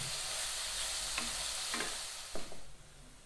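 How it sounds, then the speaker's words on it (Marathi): Chopped onions sautéing in a pan for pav bhaji, a steady soft sizzle with a few scraping stirs of a spoon, close and alone with no talking. "आणि 1 वाटी कांदा. या परतवून घेणार आहोत आपण इथे."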